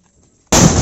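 A firecracker bursts during a New Year celebration: a sudden loud broadband crack after a half-second of near silence, then a sustained harsh roar of noise that fills the rest of the moment.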